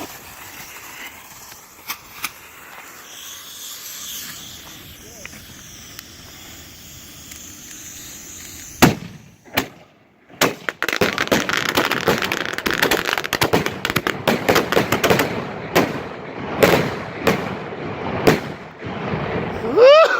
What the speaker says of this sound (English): There's a small rack I put together last night. Quick little 15 shot.